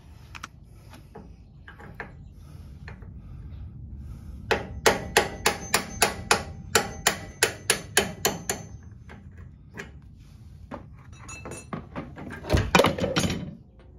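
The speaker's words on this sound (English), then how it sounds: "I had to get out my hammer again and bang it out the rest of the way." Sharp metallic hammer blows drive out a utility trailer axle bolt in a rapid, steady series of about a dozen hits, close and loud, followed by scattered clanks and a burst of clatter.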